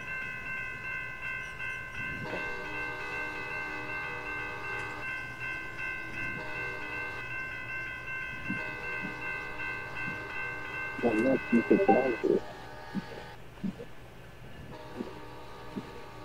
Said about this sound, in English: train 14 is almost to me, you guys